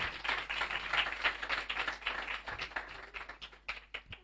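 Applause from a church congregation during a sermon, a steady, dense patter of many hands clapping for about four seconds before thinning out toward the end.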